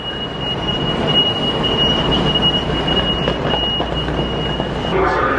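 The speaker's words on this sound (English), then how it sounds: "Through security on the last monorail trip of the ride." Disney World monorail in motion, a steady rumbling rail ride with wheel noise, a sustained high squeal and a continuous loud hum throughout.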